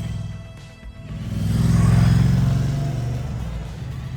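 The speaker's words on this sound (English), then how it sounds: "I eagerly jumped back on the Stelvio for a short ride to sample the goods." Moto Guzzi Stelvio motorcycle riding along in the Oregon forest, its engine rumbling low and swelling in a smooth acceleration before easing off, steady and near.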